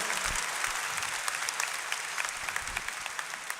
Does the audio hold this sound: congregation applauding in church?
yes